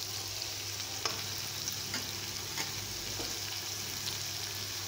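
Two medium tomatoes hit hot oil in a pan for homemade capsicum rice, giving a steady, soft, even sizzle that carries on without a pause.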